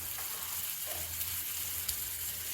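A pot of South Indian sambar rasam with tamarind bubbles and simmers steadily on the stove, giving a continuous soft seething hiss with a low hum underneath.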